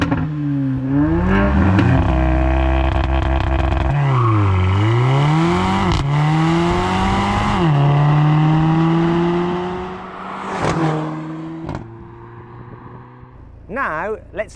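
Older Mercedes-AMG A45 turbocharged four-cylinder engine revs up and down repeatedly, rising and falling pitch, loud and close, then settles with pops and crackles at the end.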